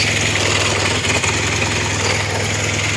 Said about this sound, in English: It is a little cold-blooded when you start it, but idle times seem good.